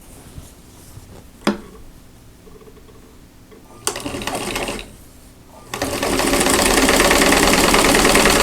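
A sewing machine stitches quilt block fabric in short bursts: a sharp click, a brief run, then a longer steady whirring stretch near the end, close and fairly loud.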